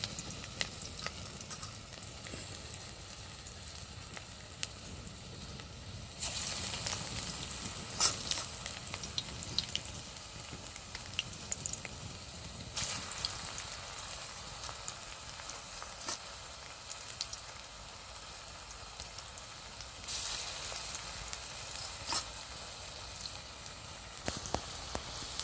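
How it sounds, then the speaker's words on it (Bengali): Banana flower balls frying in hot oil in a home kitchen, with a steady, dense sizzle that swells and eases as they are turned, plus occasional light clinks, and no talk. "তেলটা গরম হয়ে গেছে, এই যে আমি তেলের মধ্যে বলগুলো দিয়ে দিচ্ছি।"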